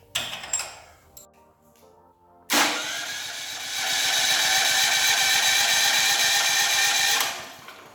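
A Westinghouse WPro8500 portable generator started by remote: a few clicks, then the engine catches abruptly, runs loud and steady with a rising roar, and shuts off near the end.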